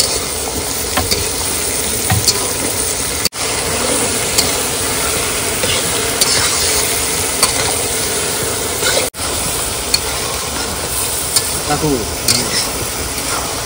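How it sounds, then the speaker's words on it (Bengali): Fish being sautéed with spices in a pan gives a steady, loud sizzle and frying hiss, with stirring scrapes and clinks running through it almost without a break, close up and with no talk. "সুন্দর করে কষাই করে নিচ্ছি।"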